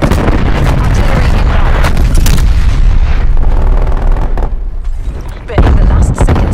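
An artillery strike in Call of Duty: Black Ops Cold War, loud rumbling booms and blasts pounding close by, easing briefly before another heavy burst, with a radio voice under the barrage.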